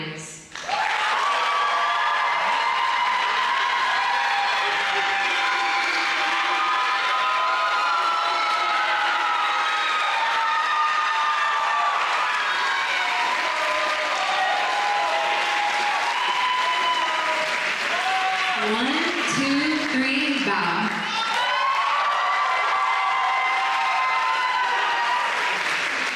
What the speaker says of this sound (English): Let's give a big round of applause to our act leaders